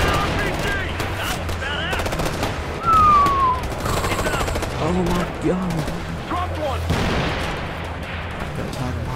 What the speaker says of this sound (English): I'm absolutely loving the explosions.